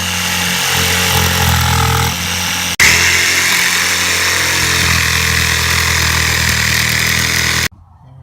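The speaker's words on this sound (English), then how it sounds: "then use the jigsaw to cut it out." A jigsaw cuts an opening beside a wall stud, buzzing loud and steady for several seconds with a brief change in pitch partway through, then stopping suddenly.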